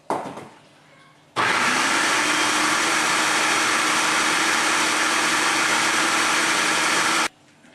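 A food processor whirs loudly and steadily for about six seconds, blending basil leaves with pine nuts into pesto, after a brief quiet start, then cuts off abruptly.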